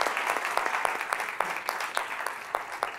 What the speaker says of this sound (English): We have obviously another round of applause for this entire panel.